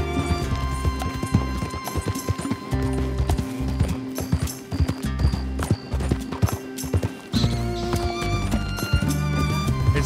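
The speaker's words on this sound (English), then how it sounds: "It's so easy to crash a horse with this." Horse hooves clip-clopping at a fast gallop in Red Dead Redemption 2, with a whinny and a crash amid game music, continuous and close throughout.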